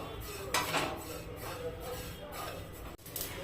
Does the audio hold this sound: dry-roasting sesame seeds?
yes